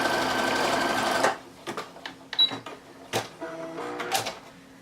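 A sewing machine stitches fold-over elastic onto lingerie, running in a steady, fairly loud whir for just over a second before stopping. Quiet handling clicks and rustles follow.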